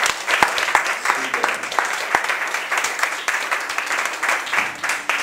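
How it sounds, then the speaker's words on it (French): An audience at a hypnosis show at a magic club in Menton applauds with dense, continuous clapping at close range, while a voice talks over it. "Et vous allez pouvoir vous asseoir sous les applaudissements"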